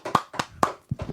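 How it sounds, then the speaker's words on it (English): Several distinct hand claps, four or five spaced strikes, loud and close, acknowledging the cast and crew in a small room with little background noise. "Here, round of applause."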